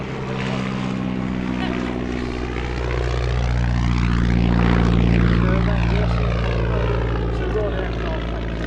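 A vintage propeller aircraft flies past at the Shuttleworth evening air show, its engine drone swelling loud as it passes overhead with a falling pitch sweep and then easing away, with commentary talk underneath.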